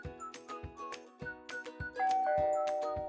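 A SkyBell video doorbell's two-tone electronic chime rings out, followed by a sustained bright tone that lingers, with faint clicks before it.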